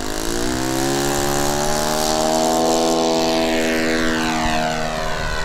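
A Flair Magnatilla RC model airplane's small engine roars steadily at high revs on takeoff, its pitch climbing and then shifting as the plane pulls away, loud and continuous with no voices.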